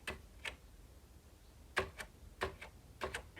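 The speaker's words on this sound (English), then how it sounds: "Let's try the shift lock key." Sparse, light clicks from repeated presses of the shift lock key on THEC64 replica Commodore 64 keyboard, a few separate taps spaced out over a quiet background, close and fairly faint.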